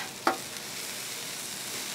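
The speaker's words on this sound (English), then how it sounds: "Our Dyngus sausage is starting to smoke on the grill a little bit and get some color on it." Polish Dyngus sausage fries in oil on a Blackstone griddle with a faint, even sizzle and a single sharp click near the start.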